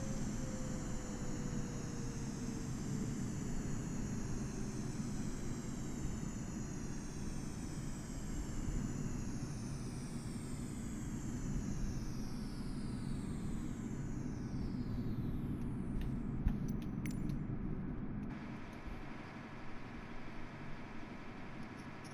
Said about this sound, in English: I'll let you hear the plane power down.